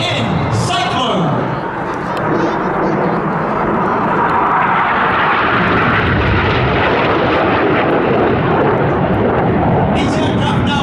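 Loud, continuous roar of RAF Red Arrows jets pulling hard turns toward each other in a flying display at an air festival, a sustained broadband rush that stays heavy throughout, with a commentator's voice faintly under it.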